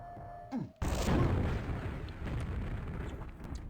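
Grenades exploding in a QuakeWorld duel, bouncing through a tunnel into a room: a sharp near blast after a brief gap, then a heavy rumbling roar that slowly tapers off.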